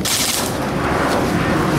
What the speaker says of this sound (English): I think I shot Hurt already